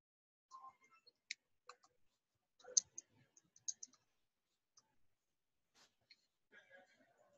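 Quiet, sparse computer mouse clicks while working in QuickBooks Online, a dozen or so short, crisp taps spaced irregularly across several seconds in an otherwise silent room.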